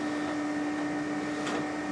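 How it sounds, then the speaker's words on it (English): A Zebra ZXP Series 8 card printer running its cleaning cycle with a cleaning card inserted, heard as a steady mechanical hum with a constant tonal whine and a brief whirring swell near the end. "press the clean button again, and insert it into the printer to finalize the cleaning process."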